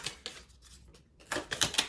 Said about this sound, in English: we're going to get a few more shuffles